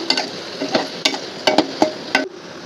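Chicken with masala stirred and frying in a pan, close and loud, with sharp scraping strokes of a spoon over a constant sizzle.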